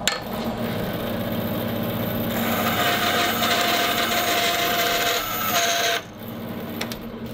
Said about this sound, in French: je vais découper mon bloc à la scie à ruban